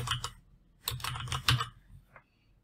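Quiet keystrokes on a computer keyboard tap out a short name in two bursts of quick clicks with a brief pause between them, followed by a single faint tap.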